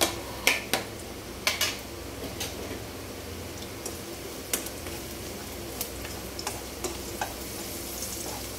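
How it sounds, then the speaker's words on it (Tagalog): Garlic sizzles steadily in a hot pan, a soft continuous frying hiss broken by sharp clicks and taps of a utensil against the pan. "sauté na tayo mga kaserye ng ating garlic para mag-golden brown"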